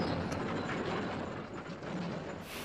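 Steady rumbling rail noise of a passing freight train, continuous and fairly loud with faint clanking, no voices.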